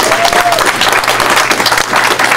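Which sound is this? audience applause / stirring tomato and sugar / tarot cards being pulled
audience applause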